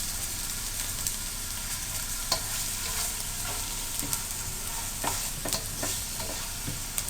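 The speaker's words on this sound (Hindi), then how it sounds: "अब हम इसमें यखनी डाल देते हैं।" Stock poured over frying carrots and onions for chicken spaghetti sizzles steadily in the pan, with scraping stirs and light utensil clinks scattered throughout, close and fairly loud with no talking.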